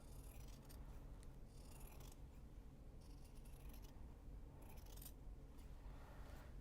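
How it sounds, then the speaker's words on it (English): Scissors trimming fabric for a knot bag, repeated close crisp snipping strokes in several bursts with short pauses between cuts. "And we're going to trim down this side."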